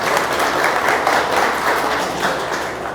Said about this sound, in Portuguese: Vamos dar uma salva de palmas pro seu Pedro aí